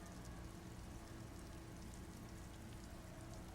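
Rain patters on wooden planks amid sand dunes in Disco Elysium, a faint, even hiss of dense droplets holding steady throughout with no other sounds.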